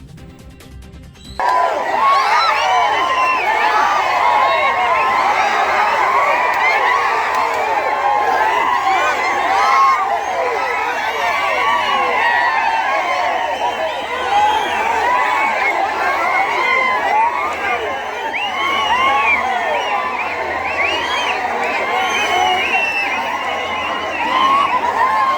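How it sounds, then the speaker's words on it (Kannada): Congress party supporters erupt after a local body election win, a dense, loud crowd roar of shouting and cheering that begins abruptly and holds steady for the rest of the stretch, with voices mixed throughout. "ಕಾಂಗ್ರೆಸ್ ಪಕ್ಷದ ಅಭ್ಯರ್ಥಿಗಳ ಹರ್ಷೋದ್ಗಾರ ಮುಗಿಲುಬಿಟ್ಟಿದೆ"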